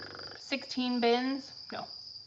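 Crickets chirp in breeding bins, a few short bright trills close by, with brief gaps between bursts.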